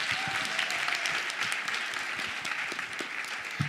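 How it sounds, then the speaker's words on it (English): Sustained applause from an audience at a women-in-sport dialogue event, a dense steady wash of many hands clapping at even loudness for the whole stretch, with no voices over it. "Give yourselves a round of applause"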